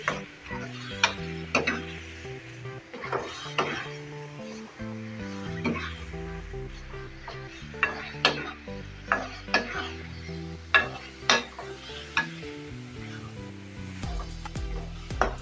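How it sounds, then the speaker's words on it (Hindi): Minced keema with red and green chillies stirred in a pan: sharp, regular spoon clacks and scrapes against the metal over a faint sizzle, with music playing underneath. "और इसमें सब्ज़ मिर्च ऐड करेंगे। और अब इसे अच्छी तरह से मिक्स कर लेंगे।"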